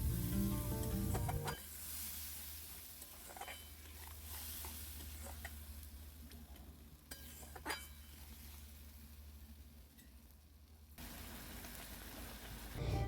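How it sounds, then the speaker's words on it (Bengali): Tomato paste with gram flour fries in a pan, a soft steady sizzle with occasional clinks and scrapes of stirring, close and quiet, louder bursts at the start and end. "আগে থেকে যে টমেটোর পেস্টটা বানিয়ে রেখেছিলাম সেটা দিয়ে বেশ অনেকক্ষণ ধরে ভালো করে কষিয়ে নিতে হবে"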